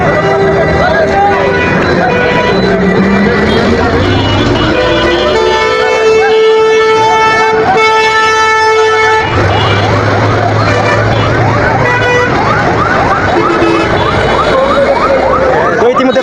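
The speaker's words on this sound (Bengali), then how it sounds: "ওই যে ফায়ার সার্ভিস আসতেছে" Fire service vehicles arrive at a blaze in Aminbazar, Savar, their sirens wailing loudly and rising and falling throughout, with a crowd and excited voices talking over them.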